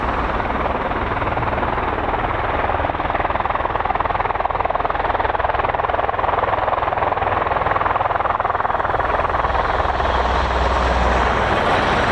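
A CV-22 Osprey tiltrotor aircraft at an RAF air show gives off a loud, continuous rotor roar and throb that fills the air without letup, sounding close and powerful, with no one speaking over it.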